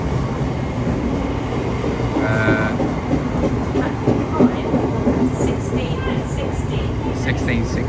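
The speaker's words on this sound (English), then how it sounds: "It's off goes 1615 South Eastern service from London Charing Cross to Dartford" A Southeastern train pulls out of London Charing Cross bound for Dartford, wheels clacking and rumbling at moderate volume with squeals and clanks from the track, amid station ambience.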